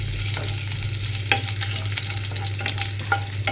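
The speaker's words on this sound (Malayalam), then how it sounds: "അപ്പോൾ അതിലേക്ക് നമുക്ക് ആദ്യം ഒന്ന് ഇഞ്ചി ഇട്ട് കൊടുക്കാം. ഇഞ്ചി ഇട്ട് കൊടുത്തിട്ട് നമുക്കൊന്ന് മെല്ലെ ഒന്ന് ഇളക്കി കൊടുക്കാം" Ginger fries in a pan for egg curry, giving a constant close sizzle with a low hum underneath and a few soft spoon scrapes and taps as it is stirred.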